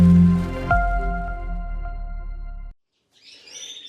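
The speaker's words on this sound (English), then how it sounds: "go and film some new colour Norwich Canaries" Satinette Norwich canaries, a new colour mutation, singing in a sustained bright warbling trill that holds steady for about three seconds, then cuts off, followed by a brief fainter twittering.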